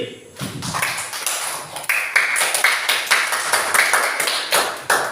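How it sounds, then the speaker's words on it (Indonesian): A classroom of students claps for a girls' group, with uneven bursts of hand claps and some rhythmic clapping, close by and mixed with children's voices and talk. "Tepuk tangan dulu untuk kelompok putri."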